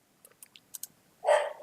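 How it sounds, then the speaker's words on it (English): A dog barks in a burst of sharp, close, fairly loud yelps near the end of a quiet indoor stretch, following a few light clicks like keyboard or mouse taps. "Sorry about my dog."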